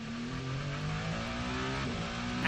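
The number 8 endurance race car at the 6 Hours of Spa-Francorchamps pulls out of the pit lane, its engine note swelling steadily as it revs up, loud and close.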